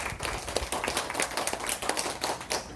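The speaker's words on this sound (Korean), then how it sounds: "큰 박수 부탁드립니다." Audience clapping at a Korean climate and environment forum as a newspaper executive panelist is introduced, a short burst of dense, steady hand claps filling the room.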